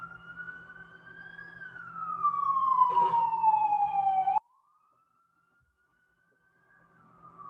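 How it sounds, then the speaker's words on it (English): Ambulance siren passing on a road, a loud wailing tone sliding downward as it goes by, then cutting off abruptly into near silence before faint traffic returns. "You just let this ambulance pass through."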